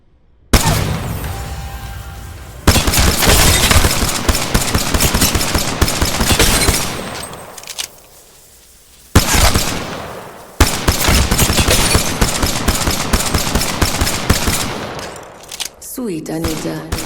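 Rapid automatic gunfire and bursts from the video game Apex Legends, loud and sustained in long volleys with brief pauses, mixed with booms and pops of battle effects, with no talk over it.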